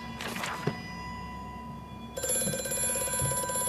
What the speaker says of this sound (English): I'm coming to answer the damn phone